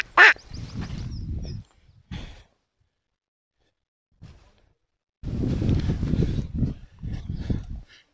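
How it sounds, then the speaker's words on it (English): Ducks quacking at the edge of a lake in a park, in two loud bursts of calls separated by a quiet gap, close by and heard without talk. "Oh, look at all the ducks here, look."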